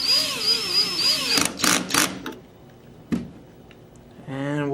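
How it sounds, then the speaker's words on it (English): Tank adapter on a Tippmann Carver One paintball gun being tightened, loud close whirring and ratcheting bursts with a few sharp clicks and short gaps between them. "we'll go ahead and tighten up our tank adapter"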